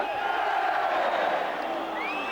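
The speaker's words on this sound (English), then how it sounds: "Each clearance cheered by the crowd." Football crowd at a Swindon Town versus Newcastle United match roaring as a ball is cleared, a broad sustained cheer with whistles rising through it, steady and loud throughout.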